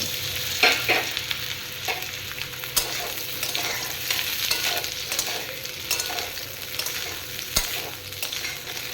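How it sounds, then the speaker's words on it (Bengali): Green banana pieces and vegetable stems frying in hot oil for a Bengali shukto, a steady close sizzle broken by repeated scrapes and clinks of a spatula stirring the pan, with no voices. "এটা আবার ভেজে লাল লাল করে"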